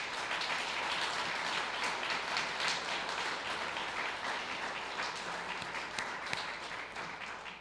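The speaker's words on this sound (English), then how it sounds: "Can we give Mark Lackey another hand of applause, please" Audience applause at an award ceremony for a health foundation honoree, a dense, steady wash of many hands clapping throughout, moderately distant and without talk.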